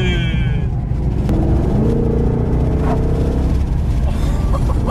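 A Ford Mustang Shelby GT500 revs hard while accelerating, its engine rumble rising and filling the cabin, with a voice briefly heard over it.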